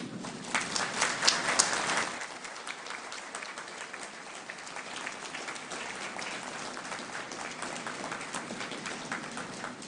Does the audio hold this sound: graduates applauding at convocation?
yes